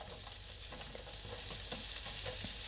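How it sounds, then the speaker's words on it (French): Onions sizzle in a hot wok, a steady, fairly quiet frying hiss with a few soft stirring scrapes, no voices. "Donc j'ai mon wok ici, je vais y mettre les oignons,"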